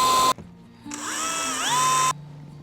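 A power drill drives wood screws into clear corrugated panels on a chicken coop in two close, loud whirring bursts, the second winding up and slowing as the screw seats.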